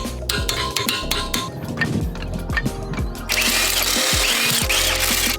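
Lug nuts on a wheel of a BMW X3 M40i fitted with custom beadlocks are tightened, with close metallic ratcheting clicks and clanks followed by a sustained whirring tool noise.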